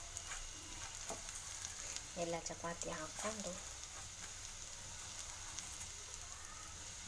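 Chapati pieces fry for gobi fry in a hot pan, giving a continuous quiet sizzle, while a short run of scraping, clattering stirs sounds near the middle.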